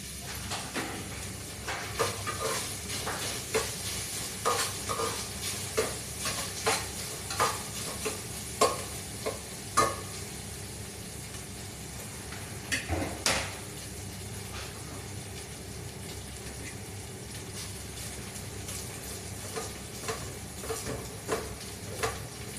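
Vegetables being sautéed in a pan on a home stove give off a soft, steady sizzle, broken up by a series of rhythmic stirring scrapes in the first half before they settle into a quieter hiss.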